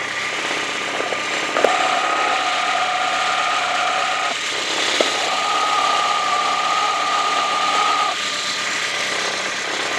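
A running car engine's alternator, heard up close as if through a listening rod, gives a steady mechanical whir and rattle with a thin whine appearing and dropping away, as bearings are checked for noise.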